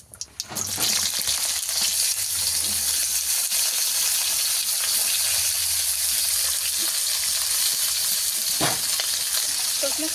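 Vegetables sizzling loudly in hot oil tempered with cumin, a steady dense frying hiss running throughout with occasional stirring, no talk.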